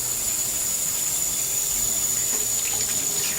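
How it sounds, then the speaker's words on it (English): Water running steadily from a tap while soap is used to wash sticky tape residue off an oak gumball vending machine, a constant close hiss with a faint high whine, no talking. "Should be able to just use the soap and water"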